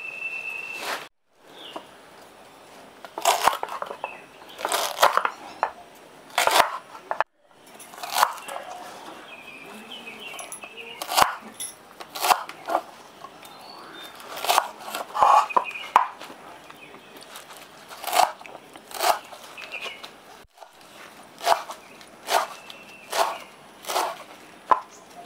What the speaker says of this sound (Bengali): তাহলে চলুন আমরা ভেটকুলটা কেটে নিই।